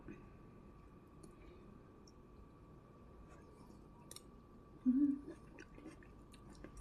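Someone chews stir-fried beans cooked with butter: faint, close, sparse crunchy clicks and soft mouth sounds over a quiet room background.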